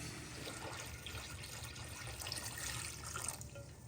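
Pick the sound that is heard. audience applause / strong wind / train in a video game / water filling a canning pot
water filling a canning pot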